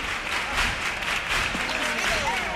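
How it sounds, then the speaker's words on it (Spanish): Audience applause fills a theatre during a carnival comparsa performance, steady dense clapping from a large crowd, loud and continuous throughout. "Aplausos para Córdoba desde todos los rincones del teatro."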